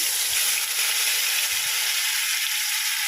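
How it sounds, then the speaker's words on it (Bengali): Dried red chillies, bay leaves and cumin seeds fry in hot oil in a wok, giving a loud, steady sizzle up close, with a couple of soft stirring knocks underneath. "এবারে দিয়ে দিয়েছি কড়াইতে তোমার শুকনো লঙ্কা তেজপাতা আর জিরে ফোড়ন"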